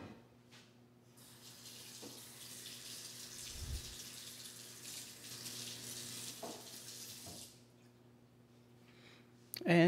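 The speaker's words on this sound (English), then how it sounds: "I'm going to turn the water on and rinse away some of the rust" A kitchen tap runs steadily as rust is rinsed off a cast iron pan, a continuous close hiss of water with brief clunks, stopping near the end before a short louder knock.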